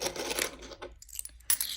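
£1 and £2 coins clink and jingle as they are handled and dropped into a pile, close and bright in several short bursts with quiet gaps between.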